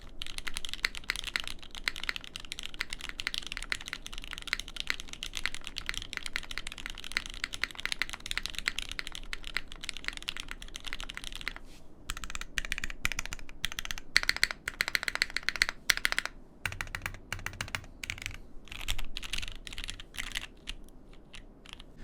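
Steady mechanical keyboard typing on a Unicorn keyboard with a half aluminum plate, dense, clacky keystrokes running continuously, close and fairly loud, with brief pauses toward the end.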